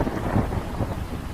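Heavy rain pours and thunder rumbles through a Hindi jungle cartoon scene, a loud, dense, continuous roar of downpour with deep low rolling underneath.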